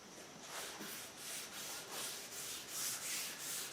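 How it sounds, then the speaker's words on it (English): An oil and varnish blend is rubbed by hand onto a wooden bench, producing a soft, rhythmic swishing rub in steady back-and-forth strokes, fairly close and quiet, with no speech. "I am going to apply a oil varnish blend"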